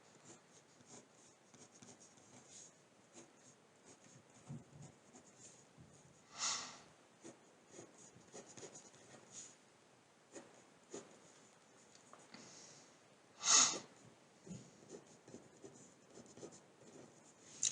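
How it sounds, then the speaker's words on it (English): A pen scratches out chemical structures by hand on a board during a chemistry lecture, with continuous soft rubbing and scraping strokes and a few louder squeaky marks, close and steady, without speech. "Actually, I'll write them down here."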